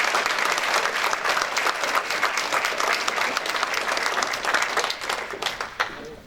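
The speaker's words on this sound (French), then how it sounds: "Applaudissez-les," Audience applause at a New Year's greetings ceremony, dense sustained clapping from a large crowd that holds steady before thinning and fading out at the end.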